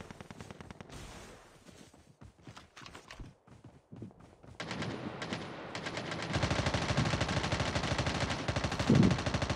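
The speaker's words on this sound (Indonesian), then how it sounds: "Orang tembak daripada atas je." Rapid bursts of gunfire in a battle royale video game, at first sparse and broken by pauses, then turning into continuous loud automatic fire that grows denser toward the end.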